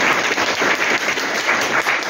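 An audience at a Polish political party meeting in Mielec applauds, a dense, steady round of clapping from a crowd indoors, carrying evenly through the whole moment with no speech over it.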